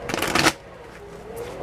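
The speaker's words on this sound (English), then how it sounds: "I'm gonna do 2 shuffles." A quick riffle shuffle of playing cards, a dense fluttering burst lasting about half a second, followed by quiet room tone and a faint soft shuffle at the end.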